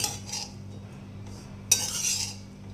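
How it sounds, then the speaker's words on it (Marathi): Grated coconut is roasted on low flame in a hot kadhai while a spatula scrapes and clinks against the pan, with a few soft stirring strokes and one sharper metallic scrape midway, close and quiet. "कढई तापलेलीच आहे, त्याच्याच मध्ये आपल्याला हे खोबरं छान भाजून घ्यायचे."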